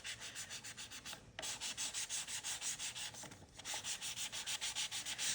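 Sandpaper rubbed quickly back and forth over a craft piece for a beach-themed scrapbooking kit, a steady rhythmic scratching of short strokes, close and continuous with two brief pauses, no talking.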